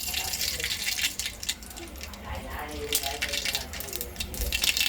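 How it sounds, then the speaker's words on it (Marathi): Mustard seeds crackle in hot oil in a pot for a simple spicy amti, a dense continuous popping and spattering crackle heard close up throughout. "मोहरी छान तडतडली."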